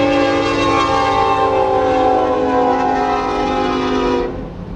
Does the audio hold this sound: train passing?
yes